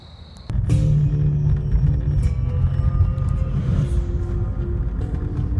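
A BMW E39 with its muffler deleted rumbles loudly and steadily after starting abruptly, a deep, close engine drone holding level with a slight fade toward the end.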